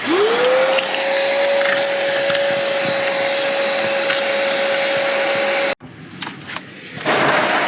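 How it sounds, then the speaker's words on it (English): A loud vacuum cleaner roars steadily up close with a whining motor tone, briefly cutting to rattling clatter before the suction noise surges back, cleaning debris around a Kubota F-Series mower's fill port, dipstick and filter. "I'm gonna go ahead and just vacuum around the fill port and the dipstick and filter"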